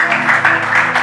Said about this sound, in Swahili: Piga makofi kwa ajili ya Yesu